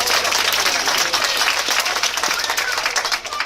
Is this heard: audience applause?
yes